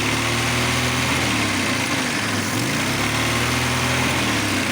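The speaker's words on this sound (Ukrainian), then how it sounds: "Двигун просто стоїть і шепче." A small carburetor engine idles steadily with a soft, even hum and light mechanical chatter, close by and unbroken, with no voices.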